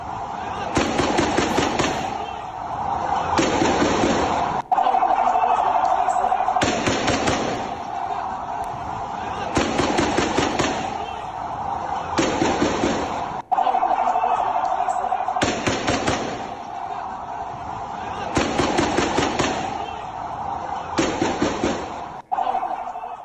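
Repeated bursts of loud gunfire during an IDF operation in the Jenin camp in the West Bank, rattling volleys recurring every few seconds through a constant harsh background with sharp isolated cracks.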